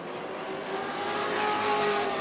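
A stock race car roars at New Smyrna Speedway, its engine a loud steady drone that swells slightly as the driver gets on the gas.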